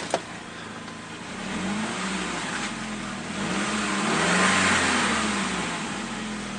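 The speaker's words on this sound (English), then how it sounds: "Give it a good rev." A Saab car engine, freshly back together after an oil pan gasket reseal, idles and then is revved, its hum swelling gradually to a sustained louder peak before easing slightly, with no talking.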